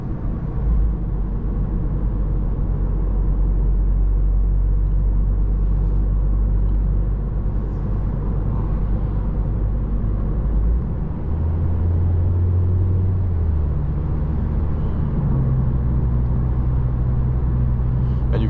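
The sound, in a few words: car engine and road noise while driving at night in winter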